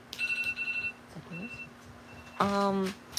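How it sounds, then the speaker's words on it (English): An electronic alarm gives a quick run of short, evenly spaced beeps, then a pause and a louder, sustained tone; a voice murmurs briefly in between. "I think that's an alarm."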